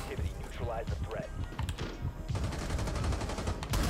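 Gunfire in Rainbow Six Siege, with repeated sharp shots and bursts set against a dense game soundscape while people talk over it, growing louder toward the end.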